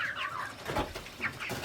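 Backyard hens clucking softly in short, broken calls close by, several birds overlapping in a garden setting with light background noise.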